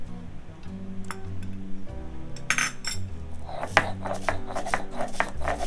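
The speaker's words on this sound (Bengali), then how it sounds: "পেঁয়াজগুলি বেটে নিচ্ছি।" Onions being ground on a flat stone slab with a stone roller for a hilsa and green banana curry: close, rhythmic scraping and knocking strokes that grow busier partway through, with no talking.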